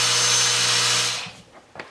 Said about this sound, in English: I can sand this right now